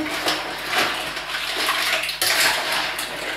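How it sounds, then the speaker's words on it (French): Mussels in their shells, sausage meat, onions, bacon lardons and tomatoes are stirred in a pot with white wine, giving wet sloshing and clattering shell scrapes in uneven strokes close by. "on commence à mélanger les moules, la chair à la saucisse, les oignons, les lardons et les tomates"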